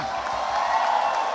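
An audience at a Golkar party event with the Ormas MKGR organisation gives a brief burst of applause, a steady wash of dense clapping.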